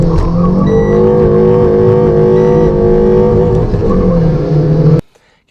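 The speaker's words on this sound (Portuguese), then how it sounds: "viu ali na hora que foi uma arrancada ruim" A car engine roars loudly as it pulls hard from a standstill in a 0–100 km/h launch, with the throttle pedal worked to control it. The revs climb for about five seconds, then the sound cuts off abruptly.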